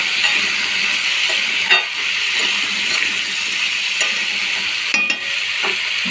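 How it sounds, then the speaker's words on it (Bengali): Continuous close sizzling of a curry in a pan as salt and turmeric are stirred in, with occasional soft clinks and scrapes of the spoon. "এর মধ্যে লবণ, হলুদ গুঁড়ো দিয়ে নেড়ে দেবো।"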